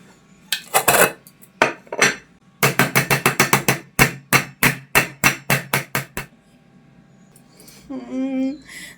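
A knife scrapes and taps repeatedly against a metal mold and plate, loosening set food onto the plate: a run of sharp, close clinks and knocks in quick rhythmic bursts, ending with a brief hum.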